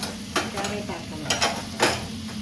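Carrots sizzle in hot oil in a pan while being stirred for street-style masala noodles. A close, steady frying hiss is broken by a few sharp scraping strokes of the spoon.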